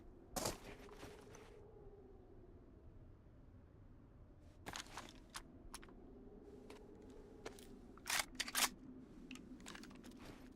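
Rounds are single-loaded into a Galil rifle in the DayZ video game: sharp metallic clicks and snaps arrive in scattered bursts, one early, several later, over a quiet low hum.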